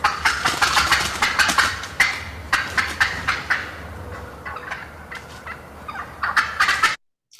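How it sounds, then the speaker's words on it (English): Recorded wild turkeys cackle as they fly off the roost, with rapid runs of sharp clucks in bursts, backed by soft flapping wing beats and a low background hum. "what you're hearing is the wing beats of birds as they're going up to a roost or"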